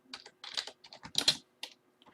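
Keys on a computer keyboard clatter in uneven bursts of quick taps with short pauses between, close and clear with no talking, during Java programming work on a mouse listener example.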